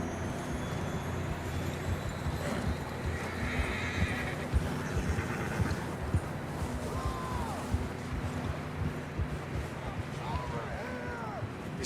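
A horse whinnies twice over a steady clip-clop of hooves and continuous outdoor rumble, with background voices underneath, in the video game Red Dead Redemption 2.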